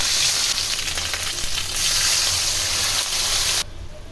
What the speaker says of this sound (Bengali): এখন এটা দিয়ে দিবেন মধ্যে দিয়ে একটু ভেজে নেব হালকা